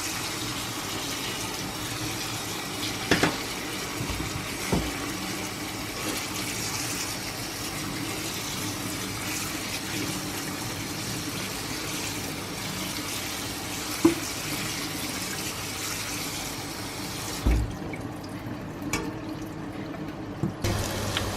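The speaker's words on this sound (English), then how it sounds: "I'll rinse it with cold water" Cold tap water gushes steadily over strained cooked pasta in a kitchen sink, a continuous close rushing broken by a few knocks and clunks, with the flow cut off near the end.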